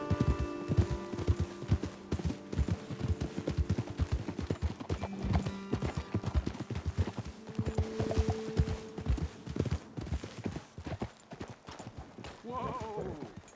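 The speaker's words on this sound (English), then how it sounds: "Okay, let's dismount here. Best leave the horses back a bit." Horses' hooves clip-clopping in the video game Red Dead Redemption 2, a brisk run of steady hoofbeats that slows and fades, with a brief whinny near the end.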